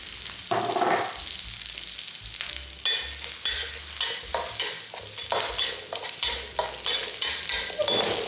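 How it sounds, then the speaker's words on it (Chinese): Dried shrimp stir-fried in a little oil over low heat in a pan, with a steady soft sizzle and repeated scraping and clinking of a spatula against the wok, close and continuous without any talk. "用慢火炒香"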